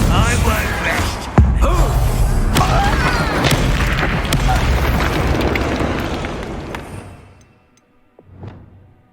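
Bombarda spell explosion in the Hogwarts Legacy video game: a sharp boom near the start swells into a loud, sustained rumbling burst with debris crackle that gradually fades, then a smaller thump near the end.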